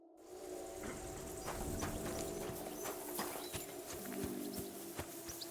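Horse hooves clip-clop on a path in Kingdom Come: Deliverance 2, a steady walking rhythm of distinct knocks close by, with a low ambient hum beneath.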